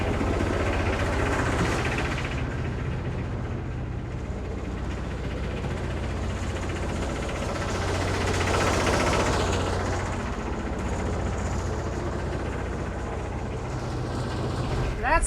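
A 1962 Kenworth Dart prime mover truck's heavy diesel engine runs steadily, a loud low rumble filling the whole stretch with a slight surge midway, while people talk over it.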